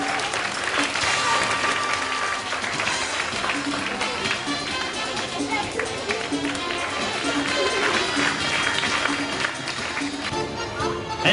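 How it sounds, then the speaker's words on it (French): A sea lion show audience at Nigloland amusement park claps along, dense steady applause filling the arena with music and a presenter's voice over it. "on les applaudit, on les accompagne en applaudissant dans les mains"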